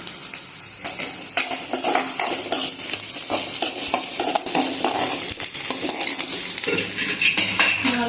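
Dried red chili frying in a pan with greens sizzles under busy stirring: a utensil clinks and scrapes against the metal pan in a quick irregular rhythm, close up, with no one talking.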